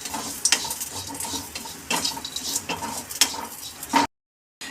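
Crushed coriander seeds and garlic roasting in a dry pan, a light sizzle under repeated scraping and clinking of a spoon stirring, ending abruptly in silence.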